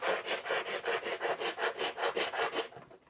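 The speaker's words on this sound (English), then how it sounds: "So right here you can hear it scraping differently." A small scraper rasps old finish off a vintage steamer trunk in about ten even back-and-forth strokes, close and fairly quiet, with the last strokes fading.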